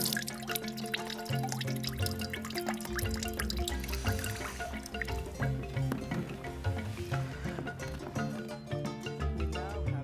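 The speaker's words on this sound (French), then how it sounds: "lorsque je verserai le lactobacille, le fromage restera dans mon premier seau" Lactobacillus serum pours through a net into a bucket, straining out cheese curds, with continuous liquid splashing and dripping heard close up alongside dense, busy background sound.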